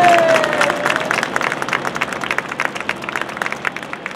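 A crowd at the Roosevelt Island Tram 40th anniversary event in New York City gives a quick round of applause: a fairly close, steady mass of clapping that gradually thins, with a faint tone at the start.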